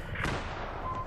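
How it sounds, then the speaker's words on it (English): A grenade bursts in a Battlefield 4 Conquest match on Siege of Shanghai, a brief, dense, muffled blast rolling out over roughly a second, fairly subdued rather than sharp. "Oh, I'm so throwing a grenade."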